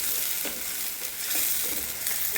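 Green chillies frying in a pan in a home kitchen, a steady close sizzle with soft hissing and faint stirring scrapes, no voices.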